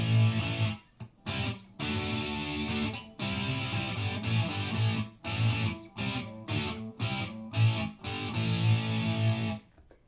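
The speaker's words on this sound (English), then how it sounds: "Let's see how that sounds with some distortion" An electric guitar with heavy distortion strums A-shape chords in short, choppy bursts separated by brief gaps, loud and close with no talking.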